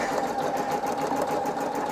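A Singer EM9305 embroidery sewing machine stitching, with a steady, fast mechanical whirring and rapid needle rhythm running continuously up close, no voices.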